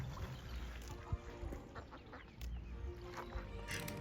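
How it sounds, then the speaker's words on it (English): Little ducklings quack faintly outdoors at Blenheim Palace in England, short soft calls scattered over quiet background noise. "Look at those little 6 ducklings."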